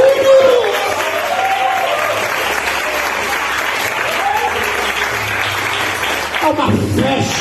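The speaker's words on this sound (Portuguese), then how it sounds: "Salva de palmas para Jesus!" A church congregation at a healing and deliverance service bursts into sustained applause, dense clapping filling the room for several seconds before fading as a voice begins.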